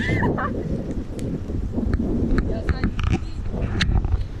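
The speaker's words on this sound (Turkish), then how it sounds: "Ama bu beni hasta eder bu rüzgar." Gusty wind in Durrës, Albania buffets the microphone in a steady rumble, with faint voices and scattered clatter underneath.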